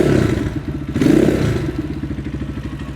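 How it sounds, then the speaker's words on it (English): A modded Gryffin 250 motorcycle engine chugs close by with a low, lumpy idle, then surges in a quick throttle blip around the one-second mark before settling back into its rapid, rowdy thumping pulse. "So it has a nice low idle, but sounds pretty rowdy once you give it some gas too."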